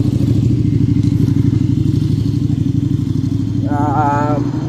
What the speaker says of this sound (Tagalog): napakaganda talaga ng motor guys.